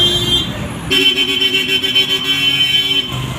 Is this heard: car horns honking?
yes